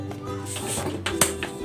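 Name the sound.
lid placed on cooking pot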